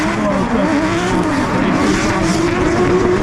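Race cars of around 600 horsepower roar together as they accelerate away on the track at Mondello Park, a loud, continuous engine drone with shifting pitch and some tyre noise under a commentator's voice.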